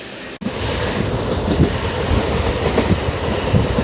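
Continuous heavy rumble and rhythmic clatter of a train running on rails, heard from inside a carriage, loud and steady after a brief dip at the start.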